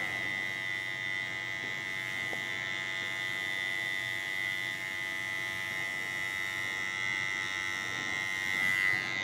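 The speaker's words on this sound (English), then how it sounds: "When I edge up, I let the clipper do the work again." Electric hair clipper edging up a taper haircut, a steady close buzz with a bright tonal whine, running continuously and alone at an even level.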